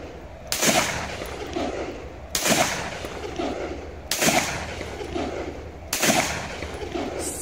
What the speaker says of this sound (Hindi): सिंगल फायर कर दिया